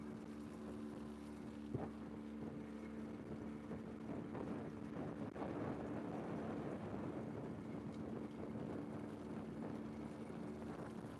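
Wind on Lake Morena: a steady broad rush and rumble with microphone buffeting and a low engine-like hum underneath, continuous and fairly even throughout, with no voices.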